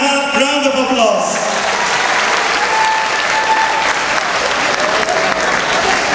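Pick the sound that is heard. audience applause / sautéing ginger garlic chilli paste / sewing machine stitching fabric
audience applause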